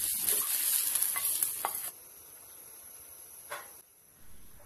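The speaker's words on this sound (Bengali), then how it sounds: "পেঁয়াজের ফুলে ভাজিটা হয়ে গেছে, এখন আমরা নামিয়ে দিয়ে ঢেলে নেব।" Onion flower bhaji sizzling in a pan while being stirred, a close bright hiss with scraping stir strokes that fades to a quieter crackle partway through.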